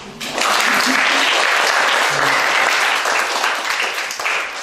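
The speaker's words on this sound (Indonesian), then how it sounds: "Tepuk tangan dulu." Children and audience at a traditional music instrument session in Museum Siwalima, Ambon, break into loud, sustained applause, dense broadband clapping that starts abruptly and holds steady throughout.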